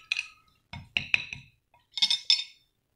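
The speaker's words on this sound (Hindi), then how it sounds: "इन स्पाइसेस को हम अच्छे से मिक्स कर लेंगे।" A spoon clinks against a glass bowl while cornflour, cumin and dried coriander powder are mixed, giving short bright chinking bursts in a few separate groups with brief pauses between them.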